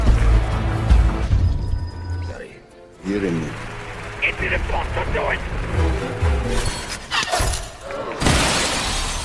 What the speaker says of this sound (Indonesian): secara tiba-tiba menembak kaca anti pelurunya dan memecahkannya